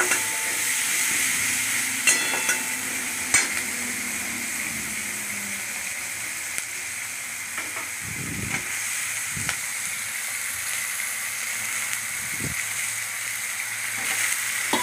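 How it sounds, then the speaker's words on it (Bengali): Chopped onion fries in a pan with a steady sizzling hiss, broken by occasional scrapes and knocks as it is stirred. "পেঁয়াজটা একটু নাড়াচাড়া করে ভেজে নিলাম।"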